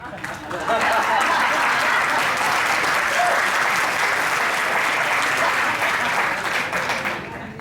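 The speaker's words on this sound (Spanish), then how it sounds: "ustedes van a tomar una de sus manos contra la otra de manera repetida. Eso se conoce como aplauso." An audience at a storytelling talk breaks into sustained applause, a broad, even wash of many hands clapping together that holds steady for several seconds before easing off at the end.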